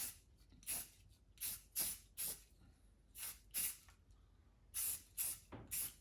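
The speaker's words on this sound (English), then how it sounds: "wood sealed Deft surface. I'm just giving this a light" Short bursts of aerosol spray hiss over a carved wooden hooded merganser drake decoy as a light coat of Deft wood sealer goes on, about eight separate puffs of varying length, close and fairly loud, with no talking.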